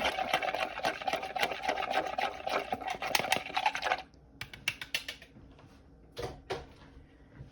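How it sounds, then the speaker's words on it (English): A whisk beats buffalo wing sauce in a bowl: fast, dense clattering taps for about four seconds, then a few scattered knocks and scrapes, close and fairly loud with no talking. "I'm just gonna take a whisk and whisk that together"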